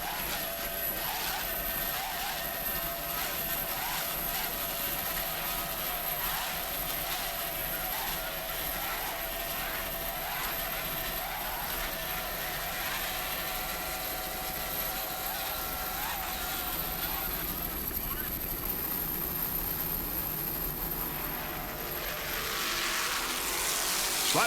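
Racing powerboat engines from a C-Class race, including a 32-foot Manta with twin 650-horsepower Speed and Sports Marine inboards and Mercury #3 Speedmaster drives, drone continuously and loudly with rising and falling pitch, like a distant high-speed pass.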